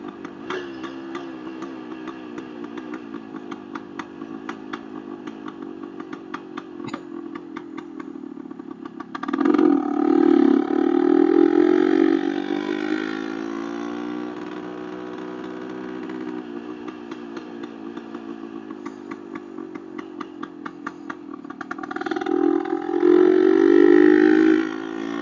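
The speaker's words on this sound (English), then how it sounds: "Listen to that two-stroke motor." A 1972 Yamaha RT1 360 Enduro two-stroke motorcycle engine runs steadily, idling with a buzzy, rattling tone and swelling into louder revs twice, close by with no talking.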